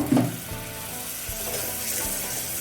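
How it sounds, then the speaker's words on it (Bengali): Spice paste of chilli powder, coriander powder, salt and water sizzling and frying in a pan with very little oil, a steady close hiss with occasional stirring scrapes and no talking. "একটু লঙ্কার গুঁড়ো আর ধনে গুঁড়ো, নুন, একটু জল দিয়ে মশলাটাকে ভালো করে কষিয়ে নেব"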